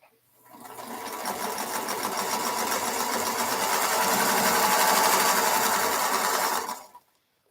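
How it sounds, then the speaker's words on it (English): Sewing machine running steadily for about six seconds, a close, even mechanical whir that starts abruptly and stops cleanly near the end, with no talk over it. "I could still sew a while"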